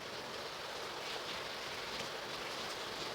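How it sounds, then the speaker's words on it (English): Heavy rain pours down in a thick, unbroken hiss that holds steady and fairly loud throughout, with no voices over it. "And it's raining heavily now."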